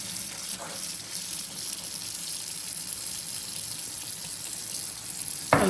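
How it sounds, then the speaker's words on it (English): Lukewarm tap water runs steadily into a basin for washing beads, a continuous close rushing gush with no breaks, ending in a brief louder splash. "I have it at hot, but I'm gonna turn it down to lukewarm, and I'm just gonna fill that up"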